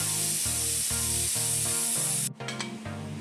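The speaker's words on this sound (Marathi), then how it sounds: "आता चार शिट्ट्या होईपर्यंत हे शिजवून घ्यायचं आहे" A loud, steady steam hiss from a pressure cooker whistle cooking chicken shorba, with a pulsing low rattle underneath, cutting off sharply near the end and giving way to a quieter hiss.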